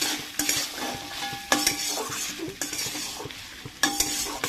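Ghugni peas stirred in a hot pan with oil and spices, a spoon scraping in repeated loud strokes over a continuous close sizzle of frying.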